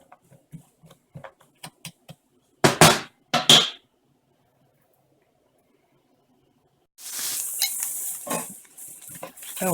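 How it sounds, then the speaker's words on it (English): Chopped vegetables in coconut oil are stirred in a pan, with sparse clicks and scrapes of a utensil on the pan, then a sustained hissing sizzle near the end. "Now we have our veggies nicely sauteed."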